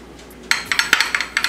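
A utensil stirs ingredients in a bowl while preparing barbecue pork chops. Quiet at first, then a run of about eight crisp, fairly close clinks and scrapes against the dish with no one talking.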